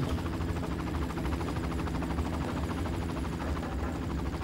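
A helicopter in the video game Far Cry flies nearby, its rotor chop a steady, even pulsing throb at moderate level throughout, with no talking.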